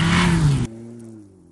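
Volvo S60 Polestar engine revving loudly and briefly, a strong throaty burst that cuts off sharply and settles into a low, fading idle rumble.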